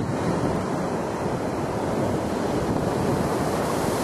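Ocean surf breaks at the shore as a loud, steady wash of rushing water, with wind buffeting the microphone throughout and no voices.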